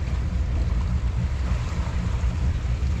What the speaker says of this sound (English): Engines are running fine.